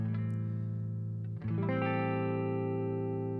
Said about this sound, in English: if I play the guitar now, you'll hear it coming out the right side